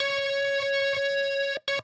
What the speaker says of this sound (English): There is definitely a distortion on.